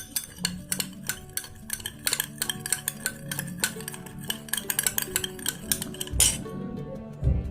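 A spoon stirs squeezed citrus juice in a glass, making repeated close clinks and scraping taps against the sides in an uneven rhythm, ending with a soft thud.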